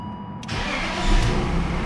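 A BMW E39 with a 3.0 engine starts up, with a short starter crank that catches into a steady mid-pitched idle with a brief rev, close and loud.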